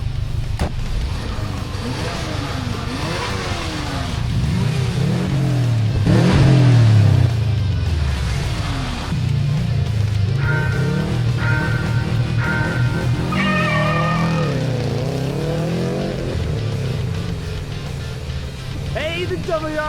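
Subaru cars, including a WRX, racing with engines revving hard and surging, tires squealing at moments, loud and close, while people talk excitedly over the noise.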